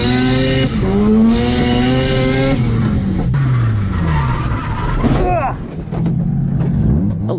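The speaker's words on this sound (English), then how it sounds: "Oh, the white car spun out." A drift car skids and spins out on a track, tires squealing loudly with a wavering engine note that rises and falls throughout, close and continuous.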